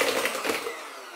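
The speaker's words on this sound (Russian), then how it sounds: "И начинаем взбивать. Взбиваем до белой пены." Electric mixer whisking eggs with sugar and a pinch of salt, a close whirring motor buzz that fades out within about a second.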